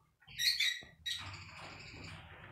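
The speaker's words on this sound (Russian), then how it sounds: "это кокарик-попугай," A New Zealand kakariki parrot kept as a pet gives two loud, shrill chattering calls close by, followed by a softer, lingering twittering over low background noise.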